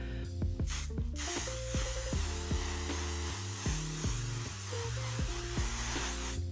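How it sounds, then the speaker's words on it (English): A pump bottle of makeup setting spray fires a few short, close hissing bursts, with a steady tonal hum running underneath. "it reminds me of hairspray"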